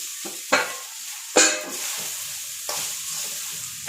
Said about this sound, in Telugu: ఇదిగోండి రైస్ అయితే వేసేస్తున్నా.